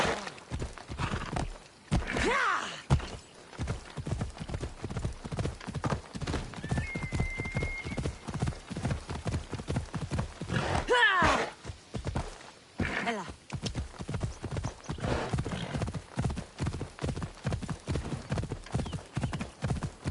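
Hooves of the horse Phobos in the video game Assassin's Creed Odyssey beat out a rapid, steady clip-clop rhythm for the whole stretch, with a couple of brief whinnies and short shouts from a rider mixed in.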